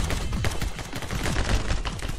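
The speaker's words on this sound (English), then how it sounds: "submachine gun." Rapid, continuous submachine gun fire from My Friend Pedro, a dense stream of close, loud shots with no talking over it.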